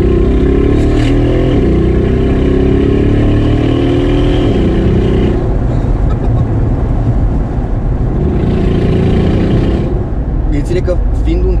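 Brabus G700 with a quad exhaust, two pipes on each side, revving hard up close, its deep engine roar rising and falling steadily through the whole stretch, with someone talking over it.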